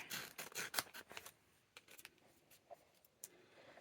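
Scissors cutting off excess paper in an art journal, a quick run of crisp snips and paper rustles followed by quieter, scattered cuts, close and faint.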